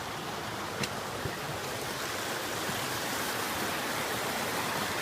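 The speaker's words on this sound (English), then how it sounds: "enjoy the creek for a minute" A steady, broad rush of flowing water fills the whole clip, constant and fairly close, with no voices.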